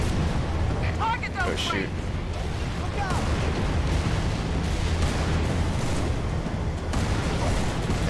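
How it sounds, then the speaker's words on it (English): Mortar fire in the Halo 3 campaign: heavy, continuous rumbling blasts and booms fill the whole stretch, loud and dense, with a person talking over them. "There is mortar fire, so let's hurry up."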